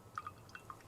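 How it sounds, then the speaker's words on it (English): Water dripping from a sheet of photo paper lifted out of a darkroom developer tray: a few soft, separate drips, quiet and close, with nothing else around them. "Water drips from the paper as I blindly pick it up"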